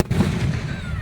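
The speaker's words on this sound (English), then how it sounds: "Firework." Fireworks bursting overhead at a public fireworks show in Dewitt, Nebraska, a dense low rumbling boom that fills the whole second at steady loudness, heard from a distance rather than up close.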